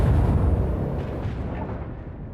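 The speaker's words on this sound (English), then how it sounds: "Macro cannon, open fire!" Macro cannons on a starship fire in the video game Warhammer 40,000: Rogue Trader, a heavy booming blast that rolls out into a rumbling decay, loud and alone.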